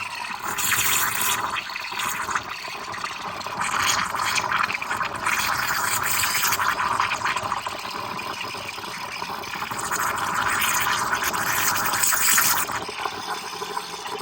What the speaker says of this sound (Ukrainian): І швиденько так взбили, підогріли це молоко.